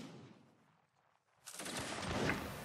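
Musket volley in the Napoleonic Wars game, a sudden dense crackle of many overlapping shots erupting after a quiet stretch and rolling on as a sustained fusillade.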